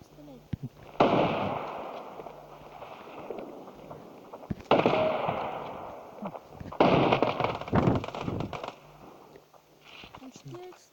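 Gunfire in the mobile shooter game Standoff 2, sharp bursts of rapid shots in several clusters separated by short gaps, fairly loud, with a voice talking between and over them.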